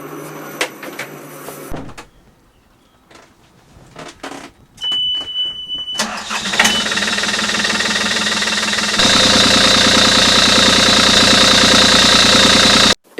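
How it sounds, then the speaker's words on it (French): A combustion boat engine starts up with a clatter and then runs loud and steady, its knocking idle joined by a high whine, after quieter clunks and a brief beep. "Maintenant, allons voir un moteur thermique."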